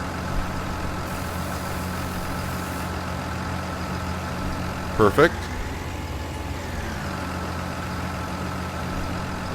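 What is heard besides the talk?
truck engine idling in Farming Simulator 19 video game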